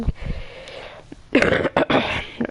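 A few short, harsh coughs from someone close by, bunched together after a stretch of quieter background noise.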